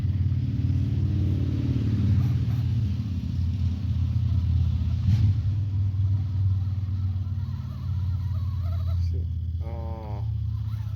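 An RC crawler truck, an FCX118 or TRX4, drives off-road with its small electric motor humming steadily and close. A brief squealing sound cuts in near the end.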